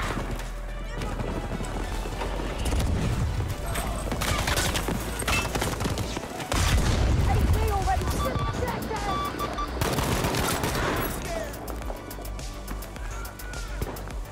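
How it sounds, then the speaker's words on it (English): Shotgun fire in Battlefield 5 rings out repeatedly across a dense, busy battlefield mix, with loud blasts stacked among other gunfire and voices talking throughout. "Who's shooting a shotgun"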